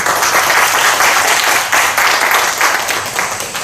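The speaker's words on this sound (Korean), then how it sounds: "박수 부탁드립니다." A lecture audience applauds after an opening keynote, with dense, steady clapping from many people that holds strong and then starts to taper toward the end.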